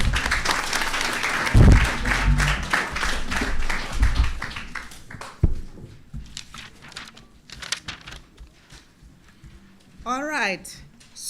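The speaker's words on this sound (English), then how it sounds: "Give them another round of applause." Applause fills a closing ceremony for a school project event, loud at first and then thinning into scattered claps. Voices and shuffling rise over it, and a brief whistle-like warble comes near the end.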